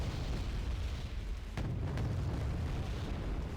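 Soviet artillery explosions in the video game Wargame: Red Dragon rumble as a dense, continuous low boom, with a couple of sharper blasts cutting through near the middle.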